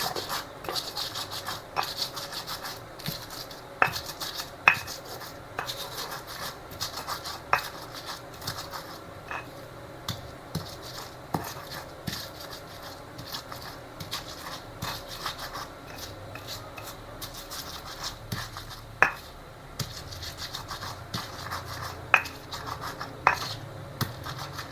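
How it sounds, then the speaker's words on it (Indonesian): Spices, palm sugar and kaffir lime leaves ground by hand in a mortar, a steady scraping, rubbing grind with sharp occasional clicks of pestle on stone, close and continuous with no talking. "Lalu aku haluskan atau aku ulek secara manual."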